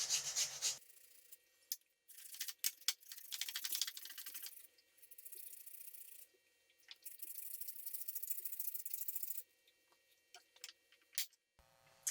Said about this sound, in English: And then I also want to add a little bit of grated onion.